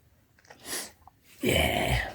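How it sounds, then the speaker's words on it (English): A pet gives a small sneeze after having its chin scratched, quiet and close, followed by a louder breathy huff or snort at the end; no one speaks. "How can I scratch under your chin and make you sneeze?"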